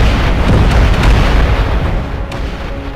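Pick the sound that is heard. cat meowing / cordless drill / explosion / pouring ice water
explosion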